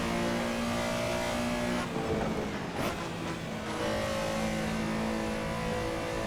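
A Porsche Carrera SR racing at Spa-Francorchamps in the Assetto Corsa game drones at high revs, with a brief dip and surge as it shifts and brakes midway, then climbs again, loud and continuous with no voices.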